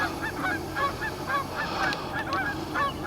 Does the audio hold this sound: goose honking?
yes